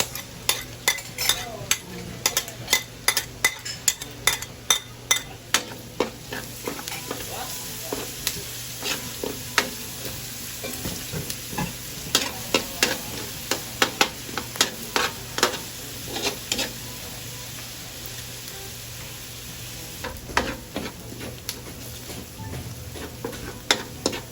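Onion frying in a pan, a constant sizzle broken by frequent sharp clicks and scrapes of a utensil stirring against the metal, close and steady throughout, no talking.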